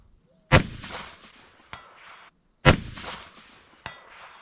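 Two loud, sharp shots from a 6 Dasha rifle during a powder comparison test with N140 and Varget are heard outdoors about two seconds apart. Each crack is followed by a rolling echo and a fainter distant impact.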